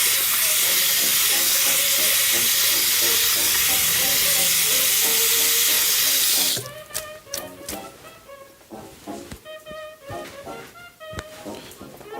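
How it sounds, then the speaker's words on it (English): Water runs from a tap as hands are rinsed, a loud steady rushing that cuts off abruptly about halfway through, followed by quieter clatter and handling sounds. "I'm going to rinse my hands"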